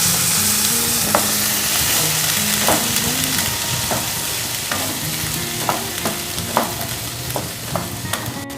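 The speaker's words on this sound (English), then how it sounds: "Now add the chole." Chickpeas stirred into frying red chili powder and spices in a pan for Delhi-style chole, giving loud continuous sizzling with intermittent scraping and clanking of the spoon against the pan.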